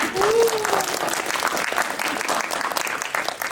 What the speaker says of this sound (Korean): 박수 한번 내주시고